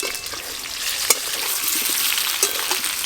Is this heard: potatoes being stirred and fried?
yes